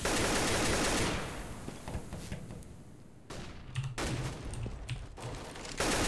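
Wall-bang gunfire during a Counter-Strike match between Ninjas in Pyjamas and compLexity: a loud burst of rapid shots at the start, scattered softer shots in the middle, and another heavy volley at the end.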